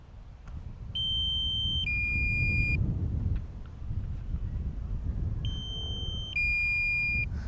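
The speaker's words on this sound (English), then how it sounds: "drone beeping away from the mic." A drone emits pairs of clear electronic beeps, each a steady tone stepping down in pitch, repeated twice with a pause between, over a low rumble of wind or traffic.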